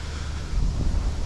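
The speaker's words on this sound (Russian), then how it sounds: "Просто вообще в лицо такой ветер сильный стал." Strong wind buffets the microphone in a steady low rumble by a lake cooling pond at a nuclear power plant, gusting slightly louder partway through.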